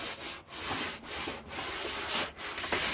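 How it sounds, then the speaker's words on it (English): Sandpaper wrapped around a wooden dowel rubs back and forth over the curve of a wooden molding during antique restoration, giving steady close scratchy strokes broken by short pauses roughly every half second. "I think I'll run a little sandpaper over that curve"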